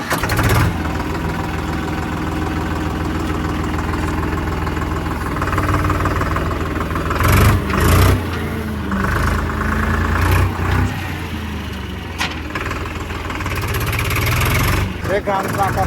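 A Powertrac Euro 47 farm tractor idles with a steady, throbbing diesel drone before heading off to drive a chaff cutter for maize fodder, a voice talking over it and a few louder clunks and revs midway.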